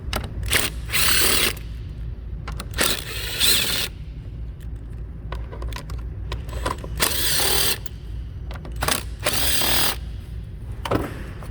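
Power tool, likely an impact or ratchet driver, loosening four 7mm bolts on the ABS module of a 2014 Chevrolet Equinox: repeated short bursts of whirring and clattering with brief pauses between, close and loud, no talking.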